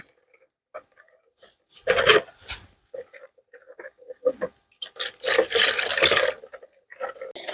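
About 300 ml of water is poured little by little into damp-proofing liquid and mixed, giving irregular splashing, stirring and sloshing bursts up close, loudest in two long stretches.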